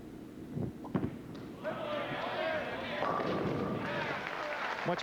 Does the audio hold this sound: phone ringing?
no